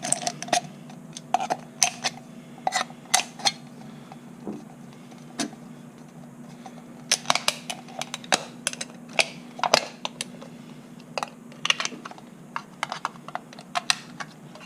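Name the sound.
cutting up aluminum cups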